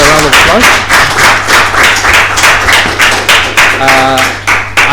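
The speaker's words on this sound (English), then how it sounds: "one more round of applause" A conference audience claps after a panel session, a close, rhythmic burst of fairly few hands with distinct individual claps, while a voice speaks over it near the end.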